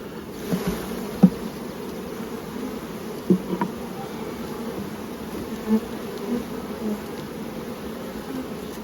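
Honeybees hum steadily around an open beehive holding brood and capped honey, a continuous close, even drone with a few louder passes of single bees and no talk.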